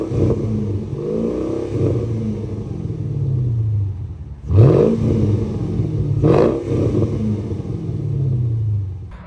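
Revving from a Mercedes E500 V8 with its mufflers deleted, a deep exhaust rumble that builds in repeated throttle blips with two sharp surges near the middle, loud and close with no talk.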